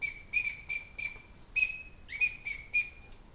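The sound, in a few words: teal whistle duck call imitation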